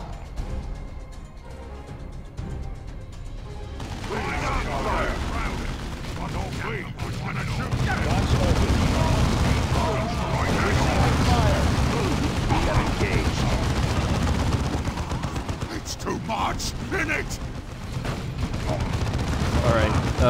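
Sustained gunfire fills a Dawn of War 2 battle: dense, overlapping shots and booming blasts run continuously at loud volume, with brief voice-like bits under the din.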